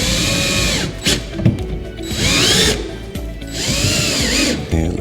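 A power drill drives screws into the top box support of a NorthPoint base corner cabinet, whining up in three loud, close bursts separated by short pauses and ratcheting clicks.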